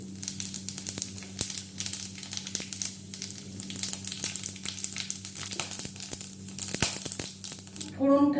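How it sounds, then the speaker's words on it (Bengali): Whole fennel, cumin, cardamom, cinnamon and cloves fry in hot oil and ghee with a close, continuous crackling sizzle and scattered sharper pops. "ফোড়নটা একটু ভেজে নিলাম"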